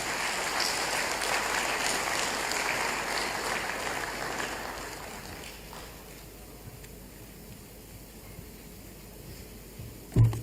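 An audience at a democracy forum applauds a presidential address, full clapping for the first few seconds that thins and fades to near quiet, ending with a brief sharp bump.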